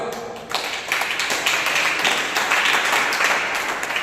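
Church congregation clapping hands during a Sunday service sermon, a dense, steady patter of many hands filling the room for several seconds after a brief quiet start.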